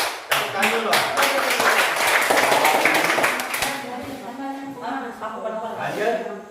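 A group of people at a school teachers' gathering claps hands together in a dense, steady round of close applause lasting several seconds, then fading as speech resumes.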